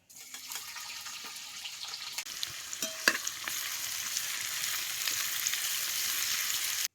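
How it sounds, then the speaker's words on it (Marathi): Finely chopped onion hits hot oil with a spoon of mustard seeds and cumin in a pan on a wood-fired clay stove, starting a steady, close sizzle with a few sharp pops and clicks throughout. "आता कांदा भाजतो"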